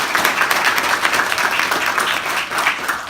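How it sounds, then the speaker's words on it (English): An audience at a community gathering applauds for Dr. Mullen, a dense, steady clapping from many hands filling the room at fairly loud level for several seconds. "So round of applause for Dr."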